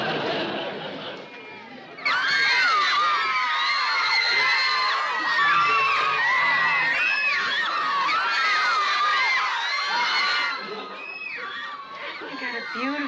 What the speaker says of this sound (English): How can you tell with all that screaming?